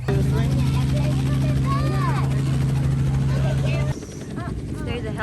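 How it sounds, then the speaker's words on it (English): A helicopter at a pumpkin patch farm thrums with a steady rotor drone that drops away abruptly partway through, while children and adults chatter nearby. "There's a helicopter ride right there."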